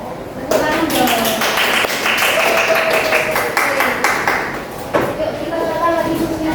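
Group of children clapping together in a classroom, a burst of rapid hand claps starting abruptly and continuing steadily, close and loud, with voices talking over it.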